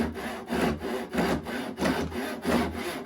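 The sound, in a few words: crosscut hand saw cutting clamped wood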